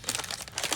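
A Motion Pro sticker crinkles briefly and closely in the hands, a short dry crumpling rustle under a second long.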